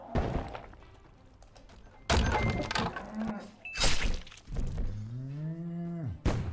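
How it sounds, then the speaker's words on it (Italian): Cartoonish cow moo from the video game Save Jesus, a long sliding low call near the end, preceded by thumps and bangs of gameplay effects. "Una mucca esplosiva"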